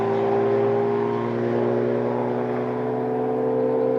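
An MGB sports car roars past on the Castle Combe race circuit, a loud, steady engine note with a strong harmonic drone that holds close for the full few seconds, with no talking.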